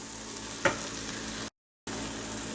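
Mushroom curry with fenugreek sizzles steadily in a pan, with a single sharp clink of a utensil against the pan and a brief dropout near the end; it is close and quiet, with no talking.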